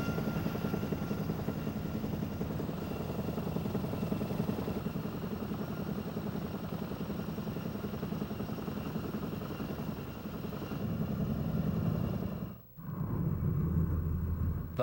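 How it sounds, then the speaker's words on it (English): An OH-58D Kiowa Warrior Army scout helicopter drones steadily in a constant engine and rotor roar, with a brief dip in the noise near the end. "It is the U.S. Army's standard combat scout helicopter."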